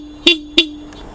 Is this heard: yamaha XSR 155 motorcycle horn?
yes